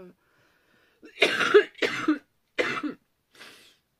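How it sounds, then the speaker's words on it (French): Three harsh, close coughs in quick succession, followed by a softer fourth cough after a short pause, with silence around them. "franchement c'est horrible cette toux"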